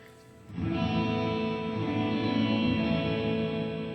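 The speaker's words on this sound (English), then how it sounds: "you don't hear the dry sound of the guitar, you just hear the reverb" A sustained, washy guitar reverb swells in and hangs as a blurred, echoing chord wash with no clear direct attack.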